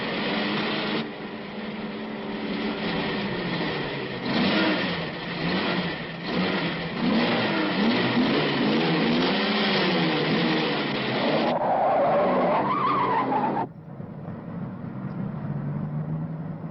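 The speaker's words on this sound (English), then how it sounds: "Hey, you want to drag, huh? Rev it up." Car engine revving for a drag race in a 1962 film, a sustained mid-pitched roar that rises and falls with throttle blips, then drops away to a quieter rumble near the end.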